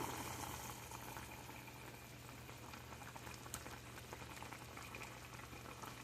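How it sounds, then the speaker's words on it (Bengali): Curry simmering and bubbling steadily in a pot as tomatoes go in, a continuous close boiling hiss with a few soft splashes and no talk. "দেখেন, টমেটোগুলো দিয়ে ফেলতেছি।"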